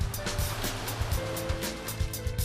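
Rough sea waves surge and crash continuously along a Vietnamese coast where small round plastic fishing boats are rowed out, with a full, steady roar and rhythmic pulses from breaking surf.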